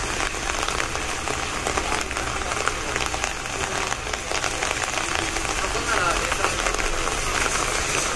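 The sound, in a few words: rain falling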